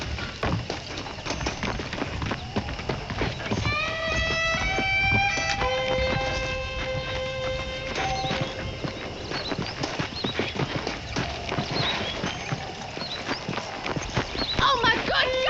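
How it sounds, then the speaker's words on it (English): Rhythmic horse hoofbeats in the video game Red Dead Redemption clip-clop steadily alongside bright birdlike chirps and whistles, with people talking over the busy outdoor scene. "The horses are saddled up over here."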